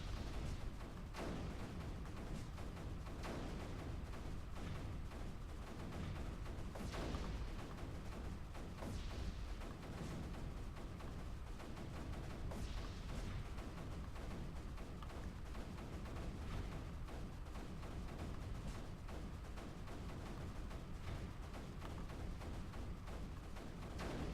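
Mortars firing in the strategy game Creeper World 3: repeated soft thuds and bursts spread across a long stretch, faint and muffled, over a continuous low hiss with no clear rhythm.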